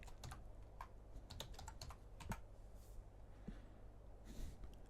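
Someone types a terminal command on a computer keyboard in a Kali Linux setup, producing quiet, irregular bursts of close key clicks in an otherwise quiet room.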